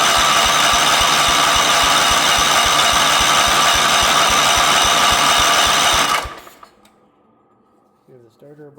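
A 1977 Wheel Horse B-100 lawn tractor's starter cranks the engine in a loud, rapid, rhythmic chugging for about six seconds without it catching, then cuts off into near silence.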